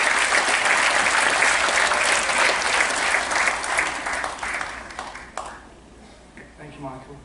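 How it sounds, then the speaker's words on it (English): Audience applause greets Michael as he joins the host on stage, full and steady at first, then thinning and fading out, with a voice speaking over the tail end. "Nice round of applause for Michael as he joins me up here."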